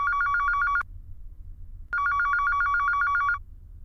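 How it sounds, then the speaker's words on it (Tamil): A telephone rings in two bursts of rapid electronic trilling, each lasting about a second, separated by a short pause, clear and close with no talk. "ஃபோன்."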